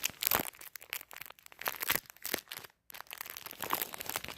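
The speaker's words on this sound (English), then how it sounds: "That's the sound of it being removed from the plastic." A small metal slide pin is pulled free of its plastic packaging, producing close crinkling and crackling of plastic in irregular bursts with a brief pause, no talking.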